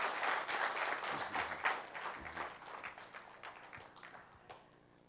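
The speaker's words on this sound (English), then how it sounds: "Let's give them a clap." An audience claps for young workshop participants after a robotics demonstration, giving a dense burst of applause that loosens into scattered claps and fades toward the end.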